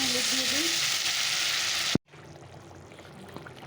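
Mustard-paste and green chili fish curry bubbling and frying loudly on a gas stove, a dense sizzle that cuts off abruptly midway and leaves a quiet room tone.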